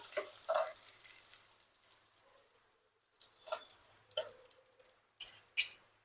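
Vegetables such as tomatoes, eggplant, broad beans and potatoes frying in a pan for a mixed vegetable curry, giving soft sizzles and several bursts of stirring and scraping with quiet gaps between.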